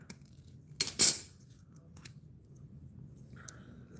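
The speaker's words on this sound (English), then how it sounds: "I'm gonna cut this white wire" Snips cut through a white brake light wire on a Honda Shadow Phantom bobber, giving a couple of sharp metallic clicks close by in a quiet space, followed by faint small handling noises.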